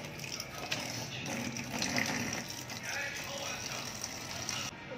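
Water poured off a pot of oil palm mushrooms: a continuous splashing gush with a few knocks and clinks, with a voice speaking over it.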